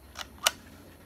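A Polaroid 125 Land Camera's shutter mechanism fires in two quick, close mechanical clicks, a softer one followed by a sharper snap, over faint room hiss.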